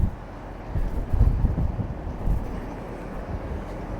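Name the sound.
wind blowing against the microphone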